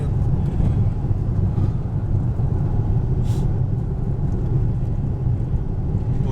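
Steady, loud low rumble of a car driving the Kolyma highway near the Indigirka River with wind noise, one wheel needing attention after punctures, continuous throughout with no pauses.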